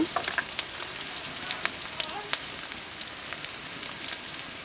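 Ginger paste sizzles in hot oil with chopped onions for a goat trotters curry, giving a steady close crackle with scattered sharp pops and light stirring, no voices.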